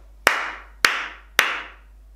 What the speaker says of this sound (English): Now I'm going to clap without saying the words and I want you to see if you can work out which word I'm clapping.